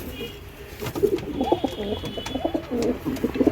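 A Phulshira pigeon, one of a kept pair, coos in repeated low, burbling phrases close by, with a faint steady tone and light background noise underneath.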